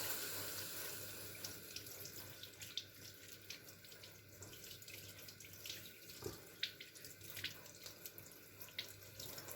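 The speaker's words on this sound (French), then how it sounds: "je vais me laver les mains." Hands are washed under a running kitchen tap, a faint steady stream of water with small splashes and a few louder drips or knocks.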